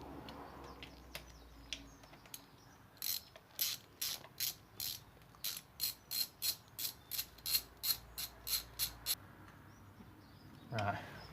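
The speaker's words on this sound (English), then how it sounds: "just taking all these bolts off one at a time" A ratchet wrench clicks steadily while bolts come off a 2011 Triumph Street Triple motorcycle during alternator replacement, a run of about twenty sharp, evenly spaced clicks close by, with faint rustling before and after.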